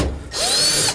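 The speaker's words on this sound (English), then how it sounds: "run the drill bit through all these" A power drill whirs briefly as a bit is run through rivet holes in a truck toolbox lid, a short close burst of under a second.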